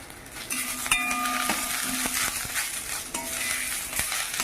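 Garlic and curry leaves sauté in a little oil in a home kitchen, with a steady sizzle and a spoon repeatedly scraping and stirring the pan, close and moderately loud, with no voices.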